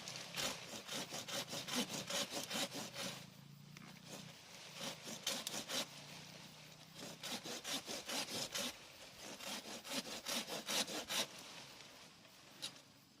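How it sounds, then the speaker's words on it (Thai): A hand saw cuts through a tree branch in steady rhythmic back-and-forth strokes, rasping loudly in several bursts with short pauses between them. "แล้วก็กิ่ง กิ่งนี้ก็จะเลื่อยค่ะ"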